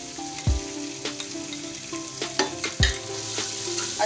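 Spice masala of red chilli powder, coriander powder and salt fries in a pan for kadhi pakora, sizzling close by as a spoon stirs and scrapes with several distinct knocks.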